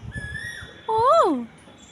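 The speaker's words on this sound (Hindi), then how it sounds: "कोयल बोल रही है" An Asian koel calls nearby with a clear rising-falling whistled note, a single bright phrase heard after a fainter earlier tone, with soft background thumps.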